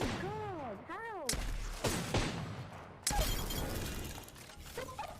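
Pistol shots in the video game Apex Legends, a few sharp, loud reports spaced irregularly amid game effects and sweeping whooshes, with a voice heard faintly alongside.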